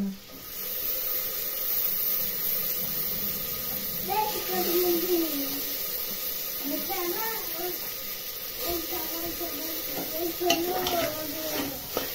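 Dried prawns stirred in a hot pan for a dried-prawn rice dish, a soft steady sizzle with scraping of a spoon, a voice talking faintly in the background.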